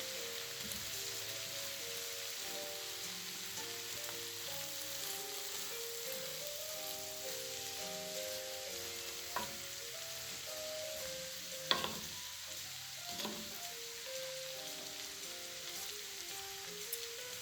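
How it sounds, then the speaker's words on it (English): Cabbage and onion fry in bacon grease, giving a steady, soft crackling sizzle with occasional louder pops, heard alone against quiet background music. "I love to hear that sizzle"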